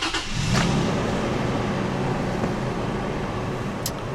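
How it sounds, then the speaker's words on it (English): A 2012 Toyota Tacoma V6 engine cranks and catches, then settles into a steady, smooth idle, heard up close with no talking. "Starts right up. It sounds just like any other Toyota V6"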